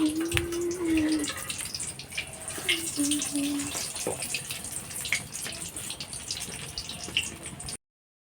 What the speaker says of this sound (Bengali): তো এইভাবে আমি প্রত্যেকটাই ভেজে নিই